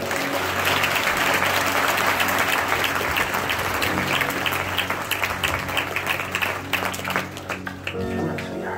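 Audience applause fills an arena at an Eastern Oregon livestock show, a dense, steady roar of clapping from a large crowd that runs throughout, with a voice speaking briefly near the end.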